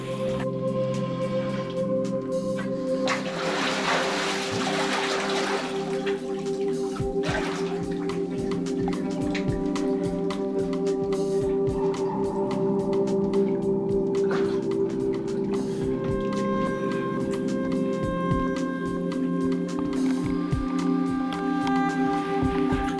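Continuous flowing and dripping water in a cave, with scattered splashes and drips, echoing and steady throughout, with a low droning hum underneath.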